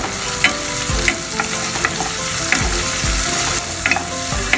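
Medium-size sliced onions sizzle in a hot pan for beetroot upma, a constant close frying hiss broken by scraping stirs every second or so, with no talking.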